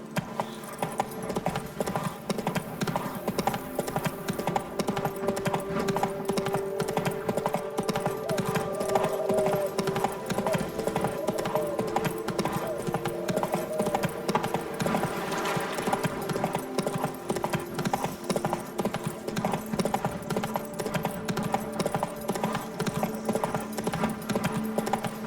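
Horse hooves clip-clopping in The Witcher 3 video game, a steady rhythmic trot running throughout under continuous background music.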